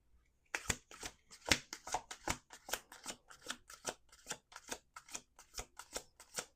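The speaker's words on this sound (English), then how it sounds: "One more shuffle." Tarot cards being shuffled in a quiet room, a rapid series of crisp riffling flicks and taps, close and fairly soft, with no talking.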